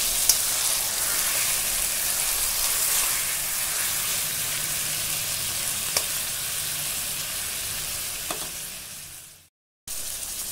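Steady sizzling of oil frying in a pan while cooking kochu shak with prawns, a constant hiss with a few faint clinks, broken by a brief silence near the end before resuming.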